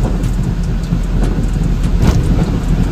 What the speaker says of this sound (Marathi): लय दचक्या पाऊस पडतोय राव